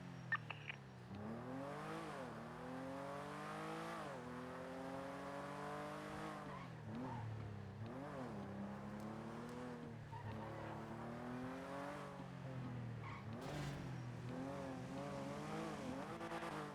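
A car engine in GTA NoPixel roleplay revs hard and repeatedly, climbing and dropping through gears as the car speeds along, loud and continuous with brief tire squeals.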